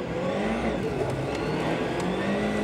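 A Volkswagen Polo WRC rally car engine roars at speed during a Swedish rally stage, a loud, steady high-revving drone with a brief rising pitch, close and continuous with no talk over it.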